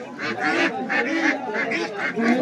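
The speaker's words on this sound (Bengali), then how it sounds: "প্রচুর পরিমাণে দেশীয় হাঁস চলে এসেছে" A flock of domestic ducks at a rural market quacks and honks close by, overlapping calls in quick bursts, noisy and continuous.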